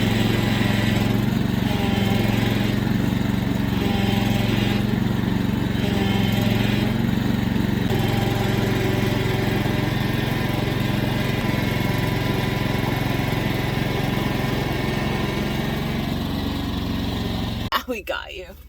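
A tractor engine drones steadily while towing a car across soft ground. The loud, constant mid-pitched rumble runs throughout with little change and cuts off with a clatter at the very end.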